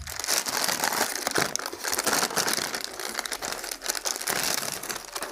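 Plastic bag holding frozen beef burger patties, packed two to a bag, crinkles and crackles steadily and close up, with dense rustling throughout and no talking.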